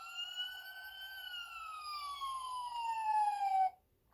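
A Dollar Tree toy police SUV plays an electronic siren close up, a clear synthetic tone sliding slowly downward for several seconds before cutting off abruptly.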